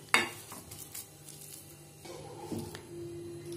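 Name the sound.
mashing cooked vegetables with a masher for cutlets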